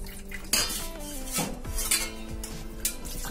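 Paneer is dipped and rinsed in water in a kitchen utensil, producing a few clinks and knocks of metal against metal with small watery movements between them, close by and moderately loud, with no talking.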